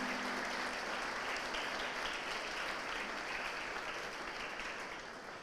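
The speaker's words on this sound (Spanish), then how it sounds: "Denle un aplauso a Cristo." Congregation applauding inside a church during a sermon, a dense, sustained wash of many hands clapping at an even level before easing off slightly at the end.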